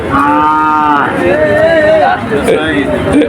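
A loud, close cow moo with a long, drawn-out tone, then further lower moos, over a background of crowd chatter at a cattle market.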